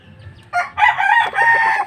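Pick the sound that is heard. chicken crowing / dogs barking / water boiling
chicken crowing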